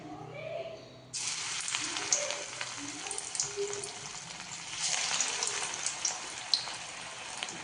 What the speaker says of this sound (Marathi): आता भजे तर आता भजे तळून घेऊया